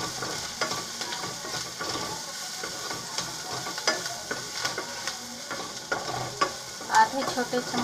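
Onions sizzle as they fry to light brown in a kadai, with a steady crackle and repeated scraping clicks of a spoon stirring them close up.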